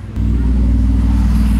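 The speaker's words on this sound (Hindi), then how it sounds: "कितना आवाज़ है, ऐसा लगा टेम्पो गया, वो डुकाटी की बाइक थी, मल्टी स्ट्राडा आई थिंक" A Ducati Multistrada motorcycle roars past nearby, a loud low engine drone that swells suddenly after a brief quiet start and holds steady, heavy and rumbling, with no talk over it.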